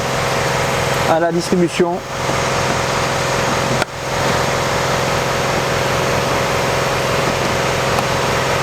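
An air compressor drones steadily nearby throughout during a car timing belt job, with a brief spoken phrase and some clattering early on over the constant hum.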